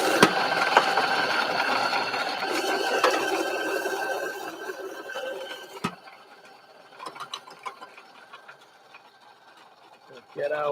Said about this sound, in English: back to the compact R80 grinder